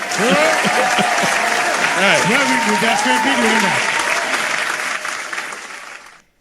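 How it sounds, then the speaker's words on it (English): Audience at a live charity music event claps and cheers in a sustained, dense round of applause that tapers off at the end, with a voice speaking briefly over it. "That's a round of applause"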